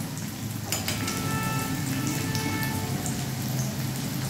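Two small bitter gourds cut into long slices fry in hot oil in a village kitchen, giving a steady, close crackling sizzle that continues evenly throughout without any talking.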